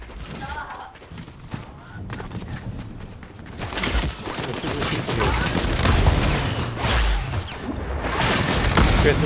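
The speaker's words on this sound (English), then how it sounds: "someone's shooting me" In Fortnite, bursts of rapid gunfire crackle and boom, building from scattered shots into dense, loud volleys over several seconds, with voices talking now and then.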